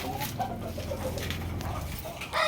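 Gamecocks kept for cockfighting, held in their cages, give short clucks and bird calls against steady outdoor background noise, with a louder burst at the end.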